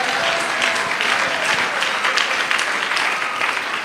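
A church congregation claps and cheers at a service, dense continuous applause with loud rhythmic clapping and no voice standing out.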